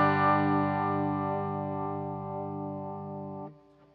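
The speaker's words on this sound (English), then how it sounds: "you're going to hear more of a vibrato and chorus" A guitar chord rings through a Hardwire TR-7 tremolo/rotary pedal set for vibrato and chorus, its sustained tone gently wavering in pitch and shimmering as it slowly decays, then cuts off near the end.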